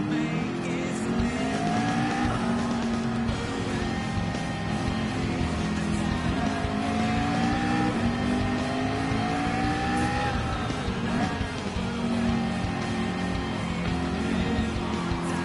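Race car lapping the Nürburgring in a racing video game, with a loud, continuous engine drone that rises and falls through gear changes and corners, joined by tire squeal, steady for the whole stretch.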